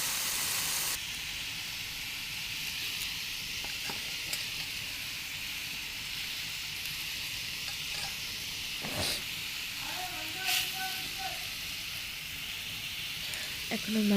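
Spiced cauliflower and potato sizzle loudly in a pan, a steady near hiss that carries through the whole stretch, broken by a few brief clatters and a burst of steam as water goes in.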